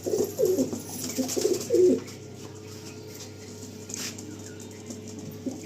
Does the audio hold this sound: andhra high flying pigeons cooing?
yes